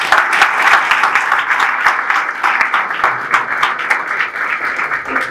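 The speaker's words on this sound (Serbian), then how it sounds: "pozdravite aplauzom gospodina Zorana Đorđevića" At a photo club exhibition held in a library, an audience applauds to welcome a speaker with dense, steady clapping that stays loud and close throughout.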